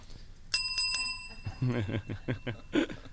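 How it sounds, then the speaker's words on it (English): A bicycle bell rings several quick times, bright and metallic, then voices talk and laugh over it as the tones fade. "Don't ring the bell, Stephen."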